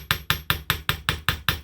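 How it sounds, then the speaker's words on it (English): A ball peen hammer taps around a wire-wrapped lasso ring in eight evenly spaced, sharp metallic strikes, close and fairly loud, with no voices. "we want to take the ball peen side of the hammer, and we want to just tap around that ring again"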